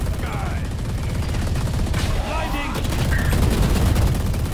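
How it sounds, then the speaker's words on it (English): Sustained automatic fire from the Odin machine gun in Valorant rattles steadily throughout, loud and continuous, mixed with other game effects and people talking over it. "may machine gun sa gilid"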